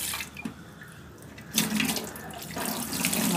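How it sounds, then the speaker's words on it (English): Tap water runs steadily into a sink while a pot is washed, with a soft stream that swells louder partway through, close and unaccompanied by talk. "Wash the pot well."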